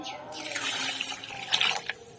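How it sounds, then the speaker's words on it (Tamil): Water is poured into a bowl of tamarind to soak it, a close, splashing, gurgling stream that swells and trails off in a few final splashes. "இன்னும் கொஞ்சம் தண்ணி ஊற்றிக்கிறேன்"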